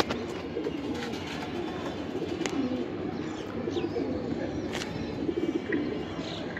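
Racing pigeons of a special bloodline coo in low, soft, continuous murmurs throughout, with a few sharp clicks and distant noises mixed into a busy background.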